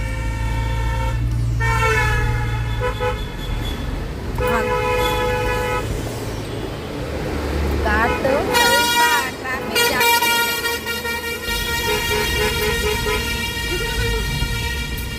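Buses honk repeatedly in busy road traffic, with long, loud horn blasts in sequence, some overlapping, over engine rumble and voices nearby.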